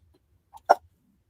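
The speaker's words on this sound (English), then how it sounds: "He's got the hiccups." A single short hiccup, close and fairly loud, preceded by a faint small catch of breath in an otherwise quiet room.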